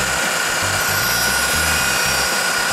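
A core drill bores through concrete, a steady loud grinding whine with a constant high tone and a heavy low rumble that pulses unevenly as the bit bites, running continuously with no talk.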